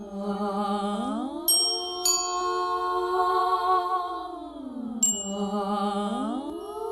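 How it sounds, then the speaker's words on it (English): Several bright bicycle bell rings over sustained singing voices whose pitch bends up and down as they pass. "I got bike bells and A-flat mixolydian."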